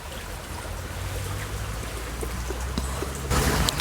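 Water is poured through a Wakako pour-over coffee filter, a soft, continuous trickle and gurgle close by that grows a little louder near the end.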